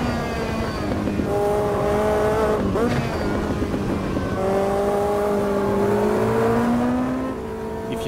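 A race car in a racing video game drives hard, its engine whining and rising in pitch through repeated revs and gear changes, with a brief dip midway and a faint tire squeal, loud and continuous.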